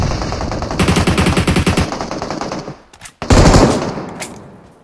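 Loud PUBG Mobile gunfire from a match, with a rapid automatic burst of evenly spaced shots, a short lull, then another dense, sustained volley, all heard close.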